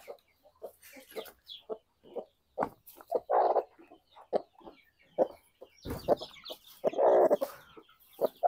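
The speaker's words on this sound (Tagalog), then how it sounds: "sabay-sabay na napipisa ang ating mga mga sisiw" Newly hatched chicks and chickens in a coop make a busy run of clucks and short calls, some louder bursts among softer peeps, irregular and close by.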